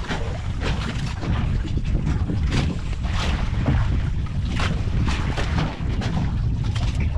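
Steady wind rushing past with rhythmic whooshing surges, close and fairly loud, no voices.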